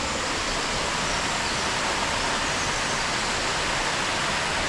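Stainforth waterfall roars nearby as a steady, dense rush of falling water, loud and unbroken with no other sounds.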